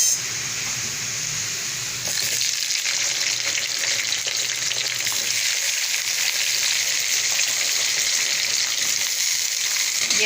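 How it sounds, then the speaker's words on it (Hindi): Potatoes hit hot oil with onion, cumin and garam masala, giving a steady, close sizzle and crackle of frying that carries on for the whole stretch with small bursts of stirring. "अब हम इसमें अपने आलू ऐड कर देंगे।"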